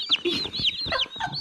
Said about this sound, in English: They look like little Easter chicks.